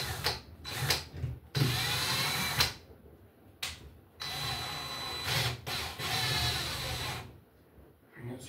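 A power drill drives longer screws while a ceiling fan is installed, with several whirring bursts of a few seconds each separated by short pauses, close by, with no talk.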